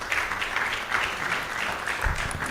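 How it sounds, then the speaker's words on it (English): Audience applause at the launch event of fully funded training programmes, following a speech. Steady, fairly loud clapping from a crowd lasting the whole moment, with a slight swell near the end. "Let's clap for him."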